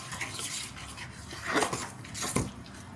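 Batter of butter, powdered sugar, semolina and eggs being mixed in a bowl, with a soft, steady scraping and rubbing and a couple of louder stirring strokes, close and alone.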